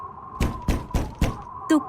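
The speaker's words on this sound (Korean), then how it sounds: "똑똑똑 밖에서 문을 두드리는 소리가 났어요." Four firm, close knocks on a wooden door at an even pace, ending with a short tonal chime, heard alone with no talking.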